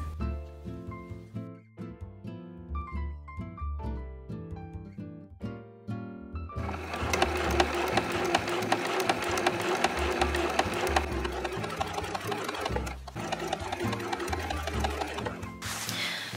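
A sewing machine stitches blouse sleeves onto the bodice, opening with short stop-start bursts and then running in a long, steady, loud whir close by before pausing near the end.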